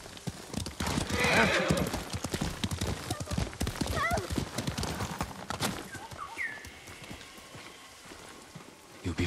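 Horse hooves clip-clop along with several whinnying neighs from a horse in the video game Ghost of Tsushima, set against a soft rain-like patter and a faint murmur of voices.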